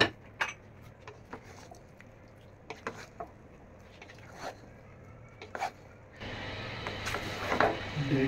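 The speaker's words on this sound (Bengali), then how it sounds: "এখন আমি মিক্স করে দিতেছি দুইটা একসাথে" Meat curry and boiled rice being mixed together in a cooking pot, with scattered scrapes and clinks of a utensil against the metal and a louder, denser stirring stretch toward the end.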